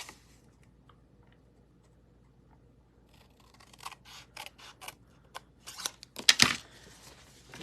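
Scissors cutting paper for a folded gift card holder, a run of quick crisp snips and crunches growing louder toward the end, close and without talk.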